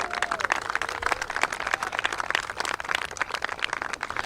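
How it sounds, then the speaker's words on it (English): A sustained round of applause from an audience honoring a coach at a civic event, dense steady clapping filling the whole stretch at moderate volume with no talking. "Give him a big round of applause,"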